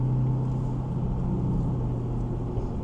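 A C8 Corvette fitted with 2M Fab headers, cats and exhaust, heard from inside with the windows up at partial throttle around 2750 RPM: a steady, low, even exhaust drone that holds for about three seconds.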